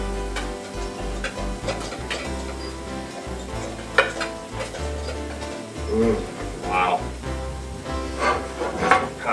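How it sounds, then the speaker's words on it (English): Orzo pasta being stirred in a dish with a spoon, scraping and clinking in irregular bursts against a soft background sizzle, close and moderately loud. "Kind of stir it a little bit."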